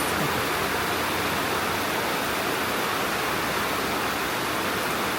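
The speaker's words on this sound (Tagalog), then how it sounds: "Lakas ng ulan, guys." Heavy rain pours down in a steady, dense hiss that fills the whole clip, loud and close, with no voices.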